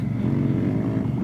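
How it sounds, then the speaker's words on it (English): Honda Africa Twin motorcycle, a 2017 model, riding off-road on a narrow trail, with a steady low engine drone held at an even level throughout the short stretch. "this is my first time with the Africa Twin off-road, really off-road, you know, on a little trail."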